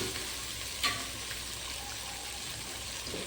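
Onions or similar sauté quietly in a pan for a dried-fish curry, a steady crackling hiss with a brief stir or clink partway through, no voices.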